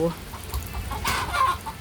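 Chickens cluck close by in a rural yard while a rooster crows. The sound is a short, busy run of clucks and calls with a louder crow partway through.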